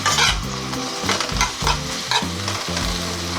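Pepper steak stir-fry cooking in a pan, a steady close sizzle with repeated rhythmic scraping and stirring strokes of a utensil against the pan, no voices.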